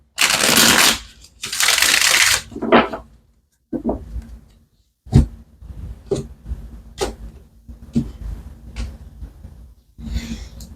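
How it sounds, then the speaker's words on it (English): Tarot cards being shuffled in a few quick riffling bursts, followed by scattered soft taps and clicks as they are handled; close and fairly quiet. "let's get one more shuffle."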